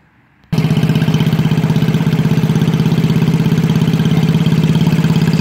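Pull-behind lawn mower engines catch abruptly after a moment of near silence, then settle into a loud, close, steadily pulsing idle with a clattering mechanical rhythm.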